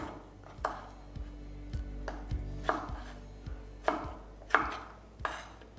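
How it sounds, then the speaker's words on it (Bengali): A knife roughly chopping small tomatoes on a board, meant for 400 grams of paneer curry paste, striking in a steady series of close, sharp thuds about every half second, with no talking. "আর টমেটোগুলোকে এইভাবে আপনারা রাফলি কেটে নেবেন।"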